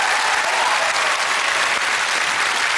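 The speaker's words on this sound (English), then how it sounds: "Big round of applause." Dense, steady applause from a TV quiz show studio audience, filling the whole stretch at a constant level with no voices over it.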